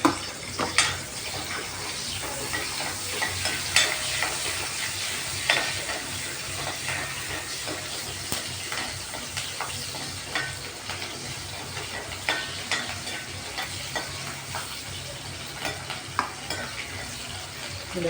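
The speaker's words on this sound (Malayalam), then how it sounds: "അതിലേക്ക് പച്ചമുളക് അരിഞ്ഞതും ഇഞ്ചി അരിഞ്ഞതും കൂടി ഇടുക." Chopped green chilies and ginger hit hot oil in a pan, giving a steady, close sizzle and crackle that runs the whole time, with scattered pops and spatters and occasional stirring scrapes.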